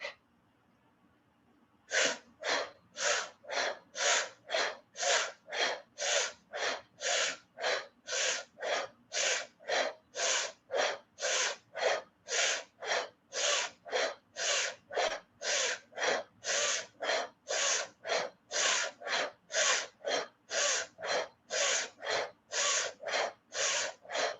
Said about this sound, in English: If you're not used to this intense breathing, you might feel it a little lightheaded